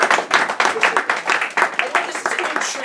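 An audience claps after a poetry reading at AMP Gallery in Provincetown, giving brisk, close, uneven applause with quick overlapping hand claps.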